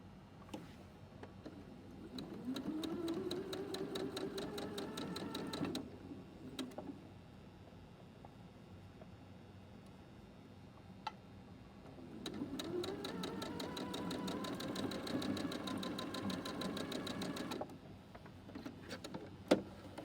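Sewing machine stitching the seams of a fabric scarf, running in two long steady bursts separated by a quiet pause, with brief clicks and handling sounds in between.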